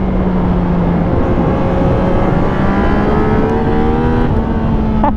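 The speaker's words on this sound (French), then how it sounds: "le 3 cylindres de chez Yann est quand même plutôt sympa, le moteur." A Yamaha XSR 900 three-cylinder motorcycle engine revs up and accelerates, loud and close, its pitch climbing steadily with no voices.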